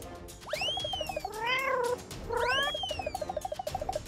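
A small cat meows twice in long, rising-and-falling calls, loud and close, over a repeating pulsed background tone.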